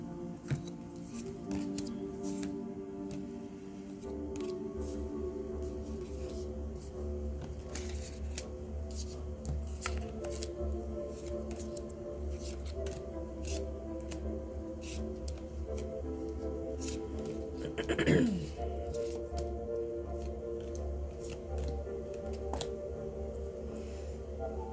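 Oracle cards being pulled out of several decks make soft, close rustles, slides and light taps over a low steady hum.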